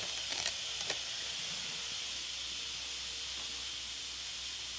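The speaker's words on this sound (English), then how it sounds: "So the steam is getting out of that" Steam hisses steadily out of an Instant Pot's release valve while cooking a cola pot roast, a loud continuous broadband rush holding evenly for several seconds with a few faint clicks near the start.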